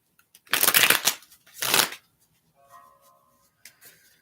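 Tarot cards are shuffled in two quick riffling bursts, crisp and close, followed by a few faint soft taps and rustles.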